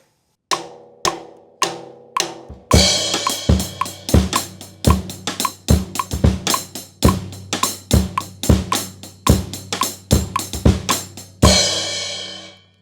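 A few isolated drum hits lead into the verse groove of a song, a steady, punchy kit pattern of kick and snare with cymbal accents, played alone and loud, ending on a crash.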